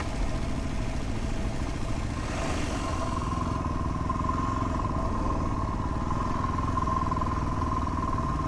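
A motorcycle engine runs at a steady idle nearby, a continuous low rumble with a faint hum on top, on a multi-day motorcycle riding and camping trip; no one speaks.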